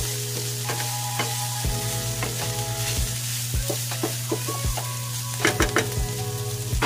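Pork meat fries in a pan and is stirred, with a steady close sizzle broken by repeated scraping and clinking strokes of a utensil against the pan. No one speaks.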